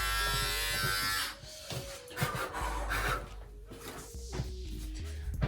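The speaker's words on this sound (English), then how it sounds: "I took the guard off to shave some of his like naps out" Electric hair clippers with the guard removed shave a person's hair at home, a steady close buzz that drops and grows rougher and rasping once the blades bite into the hair.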